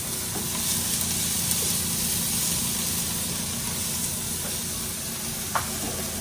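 Onions fry in a hot pot for Trini-style curry cod fish, giving a steady broadband sizzle with a few soft clicks of stirring; close and continuous, with no voices.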